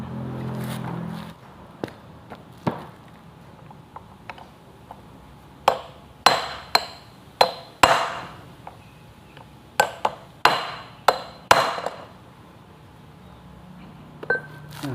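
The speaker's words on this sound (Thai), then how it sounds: "จะต้องเคาะหน่อยนะครับตัวนี้ ถ้าเราไปฝืนขันเดี๋ยวไอตัวหัวสกูมันจะ รูดซะก่อนนะครับ" A screw is tapped loose with a hammer during a Toyota Altis no-start repair, giving a scattered series of sharp, ringing metallic knocks, some in quick clusters, with quiet gaps between them.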